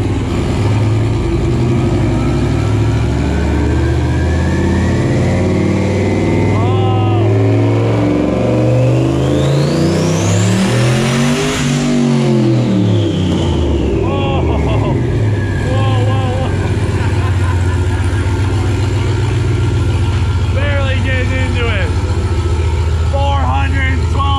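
A turbocharged 5.3-liter junkyard truck V8 in an auction Corvette revs on a dyno, climbing to a loud screaming peak mid-run and falling back, with a rumbling idle and voices speaking throughout.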